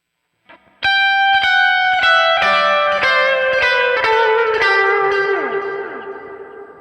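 An electric guitar with delay and reverb effects plays ringing notes and chords, each one smeared into long echoing repeats and a wash of reverb that slowly fades.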